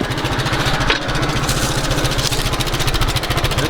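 An Allis Chalmers WD tractor engine runs loud and close with a steady, rapid firing rhythm, rising slightly as it revs, with a brief clank partway through.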